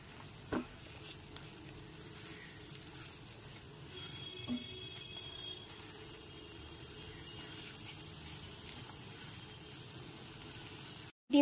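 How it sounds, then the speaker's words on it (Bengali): Eggs frying with spices in a pan over a medium gas flame give a soft, steady sizzle at low level, with a couple of faint utensil taps. "গ্যাসের ফ্লেমটা মিডিয়ামে রেখে ডিমটাকে একটু ভাজা করে নেব।"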